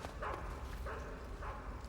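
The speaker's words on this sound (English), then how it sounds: "can already hear the dogs coming up" Guard dogs in Metal Gear Solid 3 give three evenly spaced barks at mid-distance over a low rumbling background, with no talk.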